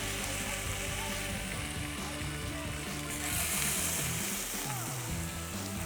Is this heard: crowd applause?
no